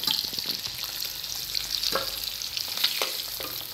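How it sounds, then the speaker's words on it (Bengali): Eggs frying in oil in a home kitchen for a grandma-style egg curry, a steady close sizzle and crackle with a few scraping stirs, no talking. "ডিমগুলো ভাজা হয়ে গেছে, এবার তুলে"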